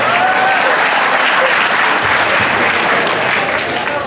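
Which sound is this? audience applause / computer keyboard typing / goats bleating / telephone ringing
audience applause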